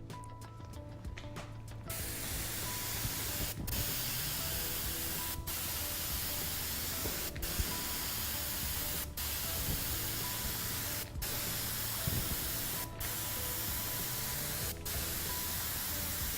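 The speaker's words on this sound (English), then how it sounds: "now we're going to finish the job off with an airbrush" An airbrush sprays leather colourant in a steady, close hiss that runs almost continuously, broken by brief regular dips as the trigger is eased between passes.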